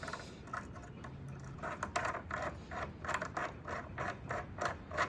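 A bolt being threaded back into a Yamaha R1 footpeg, quiet close-up metallic clicking and ratcheting in a steady rhythmic series of short turns.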